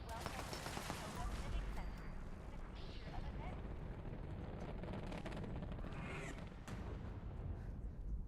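Enemy gunfire in Fallout 76, a steady rumbling stream of shots and blasts mixed with low booms, continuous and fairly distant under faint voice.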